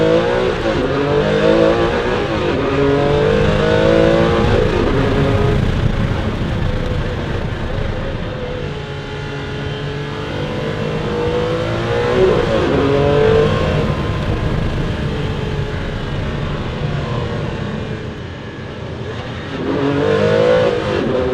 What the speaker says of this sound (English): And the engine, well, it's a Ferrari V12.